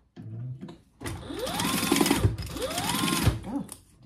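A sewing machine stitches through an apothecary handbag in two sustained runs separated by a brief pause, loud and close, with a short low hum before it starts.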